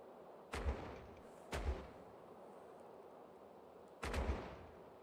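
Ship cannons fire a broadside in Caribbean Legend, with three heavy booming blasts: two close together, then a pause, then a third that rolls into a doubled report. Each is loud and deep with a short rumbling tail.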